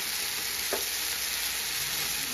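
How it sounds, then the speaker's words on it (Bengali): Onions sizzle and fry in a pan for a curry, a steady, close hiss of hot oil with one brief stir partway through. "ভাজাটা হয়ে গেছে, এখন আমি অফ করে দিব।"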